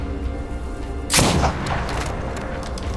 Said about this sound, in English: Look, I'm shooting at it.